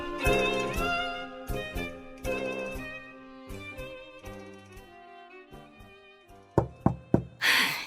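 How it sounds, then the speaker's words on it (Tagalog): Three loud, sharp knocks on a door land in quick succession near the end, right after a stretch of soft background music with no talking. "Alakas mo naman kumatok."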